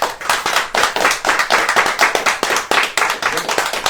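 A group of people clap at a child's birthday launch celebration, with fast, steady, close applause running throughout and voices mixed in underneath.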